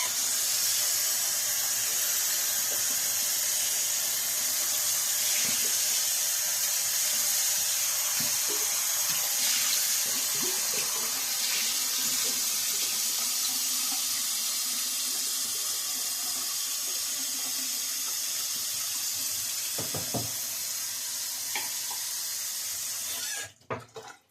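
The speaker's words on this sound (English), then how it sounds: "let me rinse out my bowl and my brush" A tap runs steadily and close by to rinse a shaving bowl and brush, a loud continuous hiss of water with small splashes that cuts off abruptly at the end.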